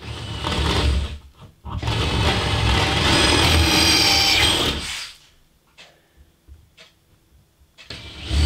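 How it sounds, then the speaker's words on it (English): A power screwdriver whirs in two bursts, a short one and then a longer, steady one, close by during cabin wiring work, followed by quieter clicks and handling sounds. "Screwdriver."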